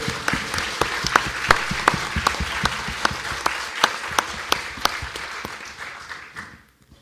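A church congregation claps together in loud, sustained applause during an anniversary worship service, sharp individual claps standing out over a dense wash, fading out near the end.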